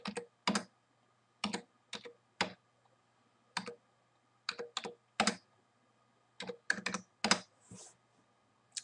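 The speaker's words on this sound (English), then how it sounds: "I'll hit enter on the keyboard, and it'll actually go down to the next row" Numbers are typed into a spreadsheet on a computer keyboard: sharp, close key clicks in quick clusters with short pauses between, quiet and clear against a silent room.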